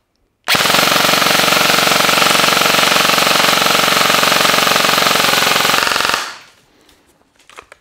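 A WE01A airsoft CQB rifle with a stock motor and MOSFET fires a single long full-auto burst of about six seconds, loud and rapid with a steady buzzing rattle, then cuts off abruptly into near silence.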